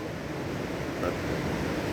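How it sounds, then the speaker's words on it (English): A river rushes steadily along a forest hiking trail toward Nymph Falls, a dense continuous roar of flowing water with some wind buffeting the microphone, constant in loudness throughout. "look at the river really flowing here"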